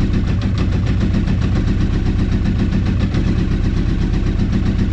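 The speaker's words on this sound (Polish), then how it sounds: "Pali. Jeszcze nie na wszystkie garki. Ale dostaje paliwa." A leaking-fuel sport motorcycle engine idles loud and close, running rough on not all cylinders, a steady throbbing drone with an uneven, stumbling pulse throughout and no talk.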